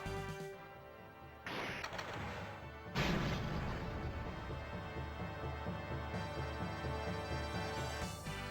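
Mortar shells land in the tactical game Sakura Taisen, two heavy crashing impacts about a second apart, followed by a lingering rumble over looping game music.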